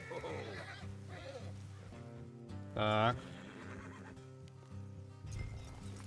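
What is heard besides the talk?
horses neighing in video game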